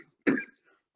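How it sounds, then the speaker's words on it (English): A single short, dry cough from a man lecturing, close to the mic and followed by silence. "I apologize for my cough."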